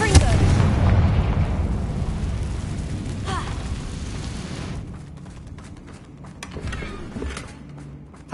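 A Confringo blasting spell exploding in the Hogwarts Legacy video game, a loud booming burst that rumbles and fades over several seconds, with smaller crackling pops trailing after and no talk over it.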